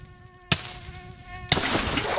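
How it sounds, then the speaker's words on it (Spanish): A fly buzzes with a thin, steady whine that starts, cuts off and returns, with loud bursts of noise breaking in around it and no speech. "Una mosca, escucho yo."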